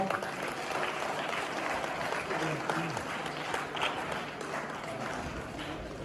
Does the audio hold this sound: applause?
yes